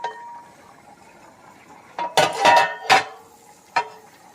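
A wooden spoon stirs and knocks in a non-stick pot, giving scattered scraping and clunking contacts, a dense cluster in the middle and a last tap near the end, close and fairly clear.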